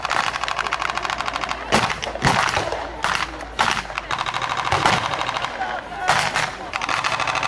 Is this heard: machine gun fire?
yes